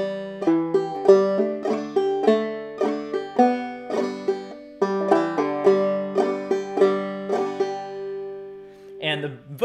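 Clawhammer banjo plays a tune alone, bright plucked notes with a steady brushed-thumb rhythm across several bars, ending with a short noisy scrape.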